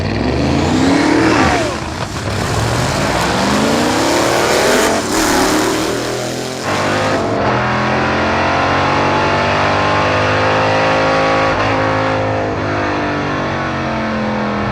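A loud hot rod drag car launches in second gear at a drag strip, its engine roaring and revving hard close by, then holding a steady sustained roar for a long stretch with no talking.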